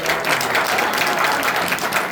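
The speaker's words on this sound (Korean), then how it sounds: "박수 한번 쳐주시죠" Audience applauding at a political constituency report event in a sports and culture hall, a dense steady wash of clapping throughout, fairly close and loud.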